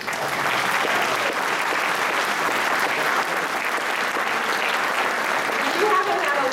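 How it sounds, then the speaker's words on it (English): An audience claps steadily at a Darwin Day 2013 gathering in Carmichael, California, a dense, even wash of many hands that holds at full volume for several seconds without any talk over it. "Now you can clap."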